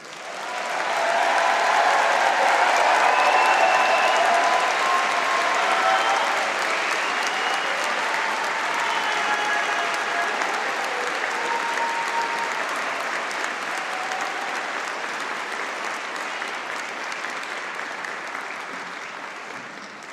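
A convocation audience applauding graduates of a school of business, a broad steady wash of many hands clapping at once, swelling early and slowly fading over twenty seconds, with a few voices cheering within it.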